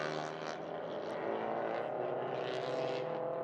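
Touring car engines in the TP2000 class of the Malaysia Touring Car Championship roar during the formation lap, a sustained, droning mechanical tone that holds steady for several seconds.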